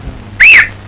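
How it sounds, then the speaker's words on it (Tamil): A single short whistle in a classroom rises and falls in pitch over a fraction of a second, loud and close, with no talk around it. "ஏன் விசில் அடிச்ச?"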